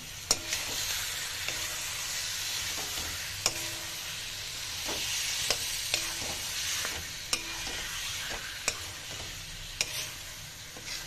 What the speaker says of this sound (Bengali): খুবই ভালো করে নাড়াচাড়া করতে হবে। যে চিকেনের মধ্যে যে মশলাটা আমরা ম্যারিনেট করে রেখেছিলাম ওটাও একটু ভাজা হয়ে যায়